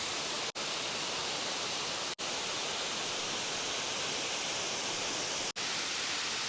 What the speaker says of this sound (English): This is probably my favorite waterfall in Cairns area that I don't have to travel far to get to.